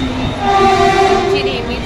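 A Mumbai local train horn at the station, a loud sustained tonal blast heard close for a couple of seconds over rail noise.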